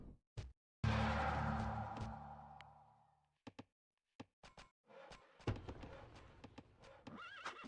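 A light cavalry horse in the Rise of Nations strategy game lets out a loud, drawn-out whinny up close. Short knocks and hoofbeat-like taps follow, and then fainter unit and battle sounds.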